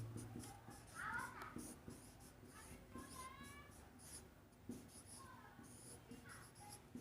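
Pen scratches on paper come close and quiet as math notes are written out by hand. The scratching runs in short scribbling bursts under faint background noise.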